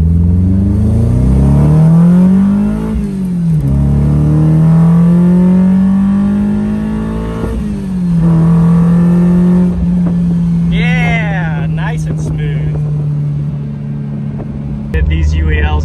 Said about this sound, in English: ISR makes a cool sounding exhaust.